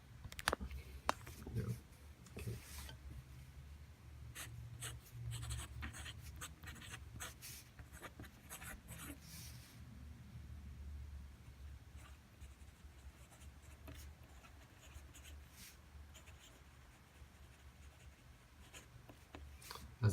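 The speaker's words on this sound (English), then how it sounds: "I'll do a quick writing sample." A TWSBI Diamond 580 fountain pen writes on paper, giving soft, continuous nib scratching and rubbing strokes with brief taps and pauses, close and quiet throughout.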